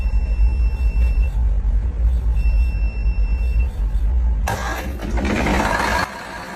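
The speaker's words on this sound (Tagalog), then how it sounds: "So aandar pa rin ang emergency diesel generator sa pamamagitan ng mechanism na ito." Emergency diesel generator turned over by a spring-loaded starter, a loud low rumble running steadily, then a harsh broadband burst as it fires and catches, settling briefly before dropping off.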